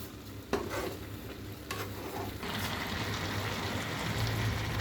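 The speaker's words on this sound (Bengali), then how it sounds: "আরও একবার নেড়ে দেবো মানে চিনি থেকে জলটা বেরোবে" Grated carrot and sugar being stirred in a pan for carrot halwa, a steady wet sizzle with scraping strokes that grows slightly louder toward the end, with no talk.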